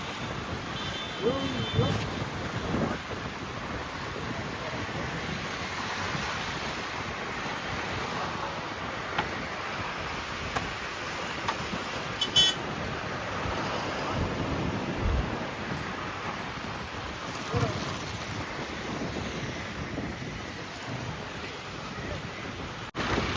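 Ocean surf rolls steadily along a Chennai beach road, a continuous wash of waves mixed with wind buffeting the microphone, with faint voices in the background.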